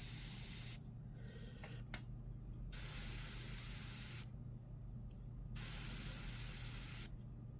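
Airbrush spraying paint onto a demon skull, a steady close hiss in two long bursts separated by quieter gaps with a faint background hum.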